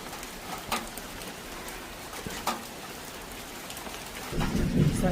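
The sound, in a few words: heavy rain with thunder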